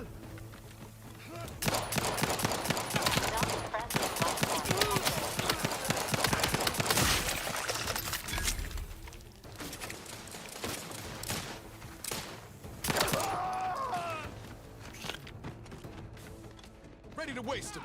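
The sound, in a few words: gunfire in video game The Outer Worlds 2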